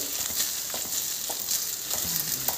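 Fried rice sizzles steadily in a hot pan while it is shaken and tossed, with continuous close frying crackle and soft scraping.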